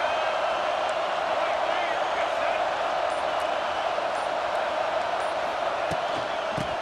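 Stadium crowd in the College Football 26 video game, a dense, continuous roar of cheering fans filling the background at steady loudness, with a commentator talking over it.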